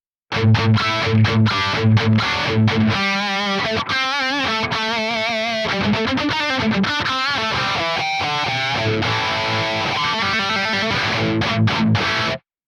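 Electric guitar played through an Archetype Nolly X overdrive with the tone control pushed, loud distorted chords and riffs with bright, sharp pick attack, continuous and alone with no voices.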